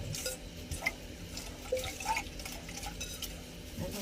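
Water pours into a pot of rice that has just been washed for a simple home-cooked lunch: a soft, steady splashing and trickling close by, with light clinks of the pot and no talking.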